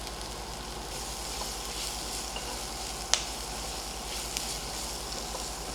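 Onions sizzle steadily in hot oil for a tempering, a soft continuous frying hiss with one sharp pop partway through and a few faint crackles, no voices.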